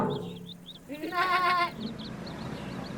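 A sheep's wavering bleat in the horror game Shaun.exe rings out once, clear and mid-distance, over a steady background hum with faint chirps.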